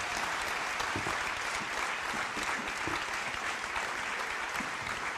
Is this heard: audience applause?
yes